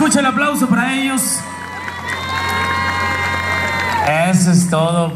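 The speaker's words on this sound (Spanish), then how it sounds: "Fuerte el aplauso para ellos" A crowd cheers and whoops for dancers at an evening dance event in Enramadas, under a loud sustained musical tone and an announcer's voice, with a few scattered claps.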